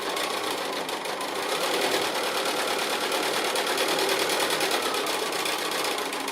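Sewing machine stitching free-motion quilting on a cushion made from 2½-inch strips, a steady rapid mechanical whir and needle clatter running close and continuous throughout, with no talking.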